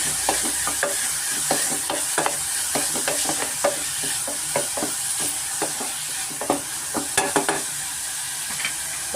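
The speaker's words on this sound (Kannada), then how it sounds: "ಸ್ವಲ್ಪ ಉಪ್ಪು ಮತ್ತು ಸ್ವಲ್ಪ ಅರಿಶಿನ, ಸ್ವಲ್ಪ ಈರುಳ್ಳಿ ಫ್ರೈ ಆಗಬೇಕು" Onions frying with salt and turmeric in a pan for chicken sukka, a steady close sizzle broken by regular scraping stirs of a spatula throughout.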